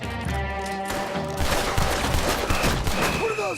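Rapid, overlapping gunfire from a shootout in the video game Red Dead Redemption 2 fills the clip. It starts over a sustained tonal musical bed, then becomes dense and continuous volleys of shots.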